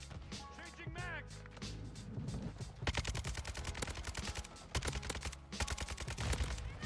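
Rapid bursts of Kastov 762 rifle fire in a Modern Warfare II match, loud and close, with clustered rounds in repeated volleys and a voice talking during the firing.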